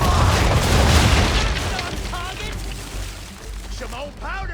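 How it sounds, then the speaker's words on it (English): Naval cannons fire a broadside from a ship in Assassin's Creed 3, a loud rumbling boom that rolls on and fades, with shouted voices breaking in near the end. "aim all guns at her bow and do as much damage as possible. Prepare to fire!"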